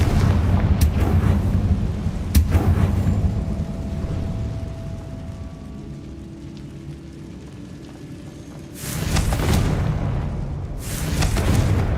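Confringo blasting spells in Hogwarts Legacy set off repeated booming explosions, several heavy blasts in bursts separated by quieter stretches, with no talk over them.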